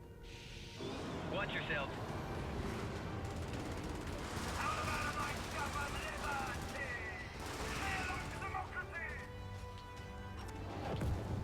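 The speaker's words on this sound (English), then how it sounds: "we'll also demonstrate the Vindicator dive bomb." A Vindicator dive bomb strike in the video game Helldivers lands as a burst of explosive blasts and rapid gunfire-like crashes, loud and layered over continuous game noise, with a player speaking briefly.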